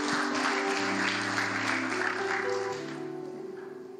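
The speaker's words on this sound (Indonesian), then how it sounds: "Tepuk tangan untuk Tuhan Yesus" Church congregation clapping together as a soft, steady wash over sustained instrumental tones, fading out near the end.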